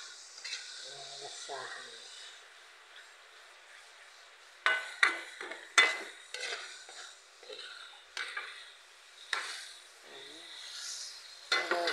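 Chicken pastil filling with chicken cubes being stirred in a pan, with intermittent spoon scrapes and knocks against the pan over a soft sizzle, and a voice speaking briefly.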